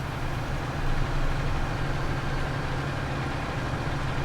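A tractor engine idles steadily in the video game Farming Simulator 19, a continuous low diesel drone at even loudness with no talking.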